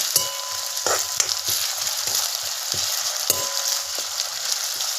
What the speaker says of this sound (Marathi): कसं मस्त भाजते का बटाटा